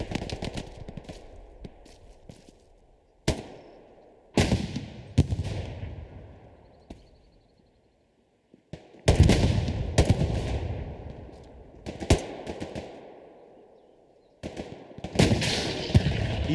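Gunfire in the game Hell Let Loose, with several sharp single shots and short bursts spread out between quieter gaps. Each loud crack has a decaying echo, and no voices are heard.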